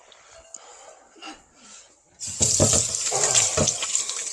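Tap water runs steadily into a sink as hands are washed during seafood gumbo preparation, a soft trickle first, then a louder, fuller splashing flow that continues to the end.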